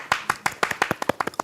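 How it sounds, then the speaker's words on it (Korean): A small group claps briskly for the first female guest on a Korean variety talk show, with quick, uneven hand claps that are close and moderately loud, lasting only a moment with no speech over them. "시타의 첫 여성 게스트 박수 한번 칠까요?"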